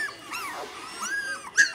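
A Mini Goldendoodle puppy whimpers in a series of thin, high, wavering whines close by, ending with a sharper yelp, with no talk.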